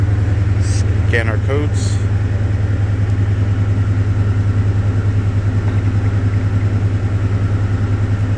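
A 2006 Ford F-150 engine, fresh from a cylinder 3 coil pack repair, cranks briefly then settles into a steady, loud, even idle close by, with a short voice speaking over the start.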